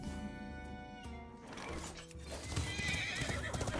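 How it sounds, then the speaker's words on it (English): A horse in a video game whinnies loudly in a long, wavering neigh, followed by clip-clopping hooves and rustling movement. "Ooh, let the horse out."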